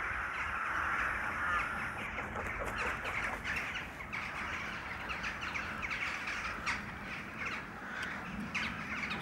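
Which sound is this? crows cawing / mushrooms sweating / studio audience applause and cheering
crows cawing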